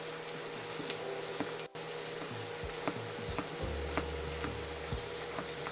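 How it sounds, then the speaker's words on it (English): Food sizzles steadily in a hot pan during cooking alongside a rhubarb pie and Jamaican patties, a constant close crackling hiss with small pops and a brief cutout near the start. "Do you hear some sizzles?"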